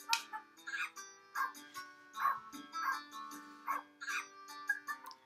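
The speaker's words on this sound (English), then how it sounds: "And there's just dogs who hang out." Several dogs bark and yip in short repeated bursts inside the Giga Pets Explorer video game, mixed with game music and a few whimpers, with no talking.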